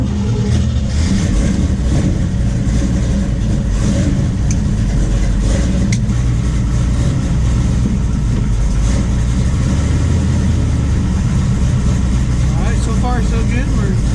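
A 1968 Nova SS with a four-speed Hurst shifter and new clutch runs steadily on a test drive, its engine a loud, continuous low rumble with rising and falling revs throughout.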